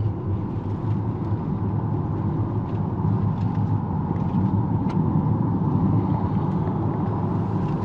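Toyota Voxy ZWR80 hybrid cruising at about 60 km/h on a suburban road, heard as a steady, even low rumble of road and engine noise throughout, with no talking.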